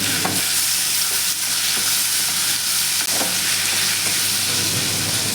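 Bitter gourd frying in a pan while being stirred: a loud, close, steady sizzle broken by repeated scraping and clacking of the spatula.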